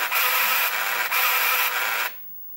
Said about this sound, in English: we see that the printer is very busy